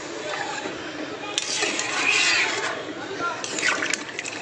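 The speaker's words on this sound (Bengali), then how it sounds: "আমি কিন্তু এর মধ্যে এবার জলটা দিয়ে দেবো।" Water poured into a pot of thin chicken curry with potatoes, a steady sloshing, splashing pour at close range that swells in the middle, under continuous background noise.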